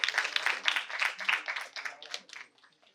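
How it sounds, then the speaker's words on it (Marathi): A burst of hand clapping for a guest at a farewell party, fairly close, with dense claps that thin out and fade over about three seconds. "तिच्यासाठी सुद्धा जोरदार टाळ्या"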